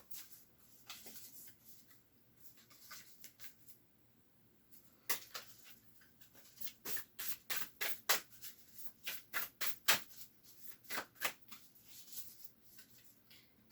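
Tarot cards being shuffled and drawn make soft papery flicks and snaps. They start sparse, then form a quick rhythmic flurry of close, crisp riffles in the middle before thinning out, all fairly quiet.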